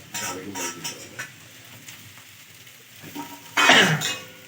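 Eggplant and potato bhurji mixture being stirred in a frying pan, a soft sizzle with scraping stirs that swell into a louder burst of frying near the end.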